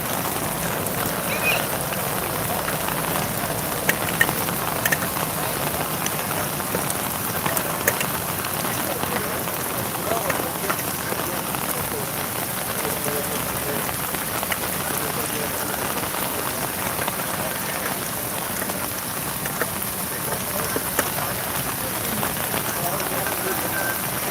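Rain pours steadily onto an umbrella at an outdoor protest, a dense, continuous patter with sharper hail-like taps, close and loud throughout with no talking.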